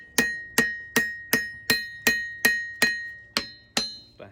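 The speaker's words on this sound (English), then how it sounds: "Alright, we're going to start shaping in the tang." Forging a knife tang from an old hayrake tine, a hammer rings on steel in about eleven evenly paced, loud close blows, each with a bright metallic ring and short decay, with no talking.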